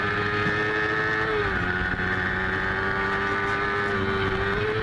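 Racing motorcycles, amateur Suzuki SV 650s at an MCRA race at Gateway Motorsports Park, roar past in a steady, loud engine drone that holds one pitch with a brief dip midway, no talk over it.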